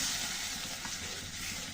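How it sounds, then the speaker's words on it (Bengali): Masala sizzling steadily in a pan for an egg and potato curry just after a little water is added, a continuous close hiss and crackle with no talking. "এবার হালকা একটু জল দিয়ে দিচ্ছি,"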